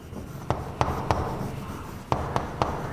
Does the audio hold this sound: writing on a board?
yes